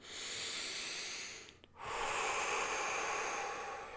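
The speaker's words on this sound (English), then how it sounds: "Take a deep breath in, deep breath out." A slow, deep breath drawn in and let out during a guided healing session, heard as a soft, close breathy hiss that pauses briefly before a steady exhale.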